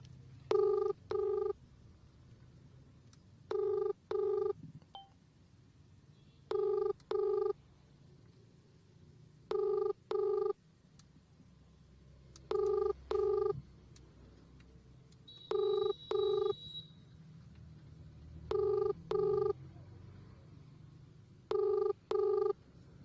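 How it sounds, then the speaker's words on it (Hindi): Ringback tone of an outgoing call to a Lucknow government office number, played over a phone on speaker: paired double rings repeating every few seconds, clear and steady over a low room hum, with no voices. "रिंग जा रही है।"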